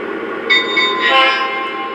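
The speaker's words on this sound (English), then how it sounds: "We'll get 2 bells and a horn to confirm that we've entered sequence mode." A Lionel Legacy H16-44 model diesel locomotive sounds two electronic bell dings followed by a steady horn blast from its onboard sound system, loud and close, with no talking.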